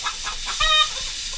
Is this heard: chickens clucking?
yes